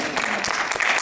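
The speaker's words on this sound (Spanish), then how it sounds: "¿Cuánto le dan un fuerte aplauso al Señor?" A brief burst of church congregation applause, dense clapping with some voices mixed in, loud and close.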